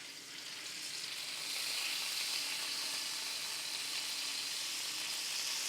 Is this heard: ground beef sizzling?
yes